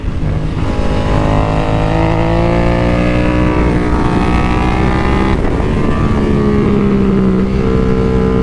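A race motorcycle engine runs loud and close, holding a steady high-revving drone with harmonic tones that shift slightly in pitch and no voices.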